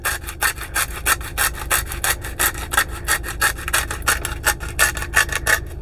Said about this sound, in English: So again, I'm going to grind the salt